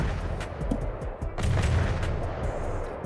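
Rapid heavy gunfire from a battle barge's guns in From The Depths, a dense continuous barrage of booming shots with a brief dip near the middle, loud and close throughout.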